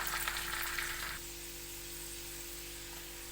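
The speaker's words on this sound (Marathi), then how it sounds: "कांद्यात चटणी चांगली लाल भडक होईपर्यंत भाजून घेते" Chili chutney is frying with onions in a pan, giving a close, soft sizzle that is louder for the first second and then settles to a quieter steady hiss over a low hum.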